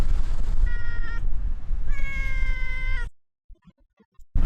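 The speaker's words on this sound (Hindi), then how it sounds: "ये बिल्ली आइलैंड पे कैसे पहुंची है?" A cat on Astola Island meows twice, two clear drawn-out harmonic cries, loud and close over constant wind or surf rumble, followed by near silence and a few faint taps.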